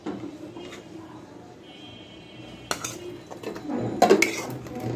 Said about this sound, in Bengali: এবার যে হাড়িতে বিরিয়ানিটা করব সেই হাঁড়িতে মাংসটা ট্রান্সফার করে নেব